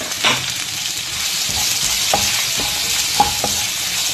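Chopped onion and crushed green chilli sauté in a hot pan, a steady close sizzle broken by a few sharp spatula scrapes and taps as the pan is stirred.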